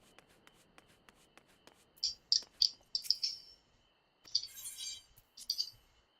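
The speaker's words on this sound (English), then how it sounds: "It is night time. You can hear the crickets." Crickets chirping at night in the video game Final Fantasy XIV, faint scattered chirps in short clusters over a quiet background with soft rustling and clicks.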